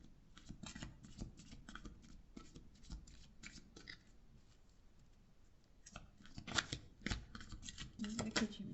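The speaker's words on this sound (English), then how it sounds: "these cards are awkward to shuffle because my hands are tiny and they are massive cards" Large, oversized Kitchen Witch oracle cards are shuffled by hand in repeated bursts of papery riffling and slapping, close and fairly quiet, with a louder flurry near the end.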